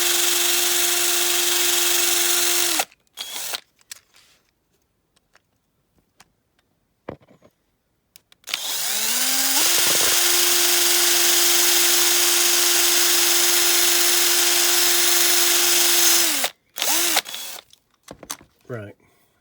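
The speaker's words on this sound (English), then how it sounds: "I'm just drilling down into the pillars first" A small electric drill bores into the pillars of a Corgi diecast Morris Minor, giving a steady high whine in two runs, a short one and then a longer one of about eight seconds, with quiet gaps and handling clicks between.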